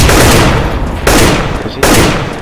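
Loud, close shotgun blasts in a video game, three heavy booms each trailing off into a long echo, roughly a second apart.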